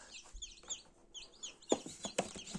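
High, thin cheeping from several chicks comes in quick overlapping bursts, with a few soft bumps and knocks in between.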